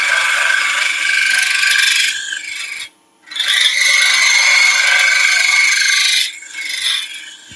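A side scraper rasps across a turned wooden thimble on a lathe, loud and close, in long continuous passes with a brief pause between strokes.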